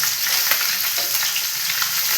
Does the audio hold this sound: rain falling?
no